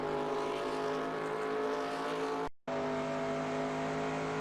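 A race car in NASCAR Racing 2002 at Charlotte (Lowes) Motor Speedway drones at a steady high engine pitch, loud and continuous, with one abrupt brief dropout midway before the same sustained roar resumes.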